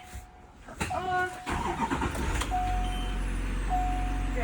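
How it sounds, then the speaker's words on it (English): A Type I conventional school bus with hydraulic brakes starting up: a short cranking burst, then the engine catching into a low rumble, with warning beeps sounding and a person speaking over it. "I'm going to start the bus."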